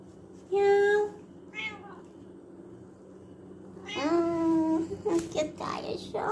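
A cat meows twice, drawn-out and close, between quieter stretches, followed by a person's voice and other short sounds near the end.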